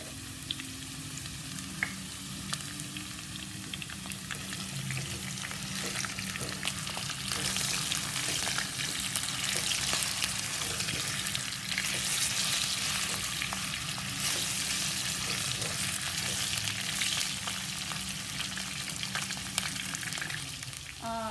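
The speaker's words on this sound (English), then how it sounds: "The potatoes are cooking, and at this stage we add just little less than half a teaspoon of salt to the potatoes." Potatoes fry in a karahi with a steady, dense sizzle that runs throughout, while occasional scrapes of stirring break through; no one speaks.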